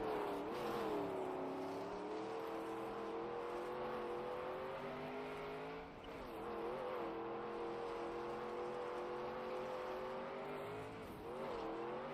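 A race car engine in the Trackmania video game drones steadily at high revs, its pitch dipping and climbing again twice. No other sounds or voices join it.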